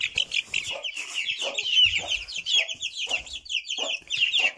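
Chickens and a rooster clucking in a village farmyard, a busy overlapping chorus of sharp, repeated clucks and squawks, close and loud throughout.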